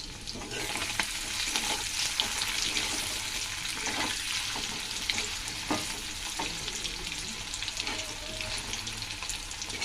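Paneer pieces fry in hot oil in a pan, a continuous, fairly loud crackling sizzle with scattered pops and occasional spatula scrapes, no voices over it.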